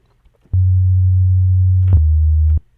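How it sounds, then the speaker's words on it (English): Deep, sustained 808 sub-bass tone built from a sine wave, held for about two seconds, stepping slightly lower near the end, each note starting and stopping with a soft click. "you can see that the 808s are derivative of a sine wave"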